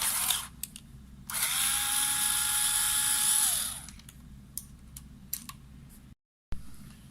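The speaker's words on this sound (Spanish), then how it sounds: "Quitamos los tornillos de la electrónica." A small electric screwdriver whirs for a couple of seconds while removing screws from the electronics board of a CX-7 device, followed by sharp clicks and light taps of parts being handled nearby.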